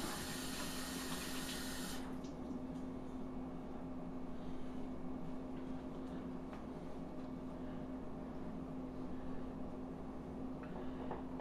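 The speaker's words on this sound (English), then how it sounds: "Wash my hands a little bit." Hands being washed under a running kitchen tap: a steady, loud rush of water that holds at the same level for the whole stretch, with a brighter splash at the very start.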